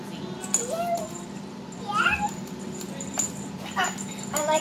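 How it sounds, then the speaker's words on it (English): A cat at an alley cat cafe lets out several short meows and squeaky mewls, fairly close, over a faint room hum with soft background noises. "There's that curious cat."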